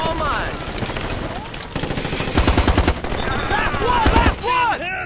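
Rapid automatic gunfire rattles in bursts during a Ghost Recon Advanced Warfighter 2 firefight, loud and close, mixed with game effects and radio chatter over it.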